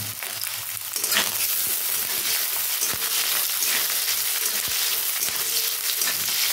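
Steady sizzling of carrots and chili frying in a pan, with a few sharp clinks of a utensil against the metal partway through.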